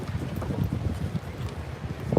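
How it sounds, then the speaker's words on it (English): Gusty wind by the water buffets the microphone in a steady low rumble, with no voices, just rough blustery noise throughout. "It's windy right here on the water."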